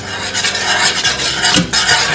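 Whole cumin, black pepper, cardamom and cloves stirred in a pan for a Kerala-style soya chunks dry fry, giving a continuous close rasping scrape with small rattling surges.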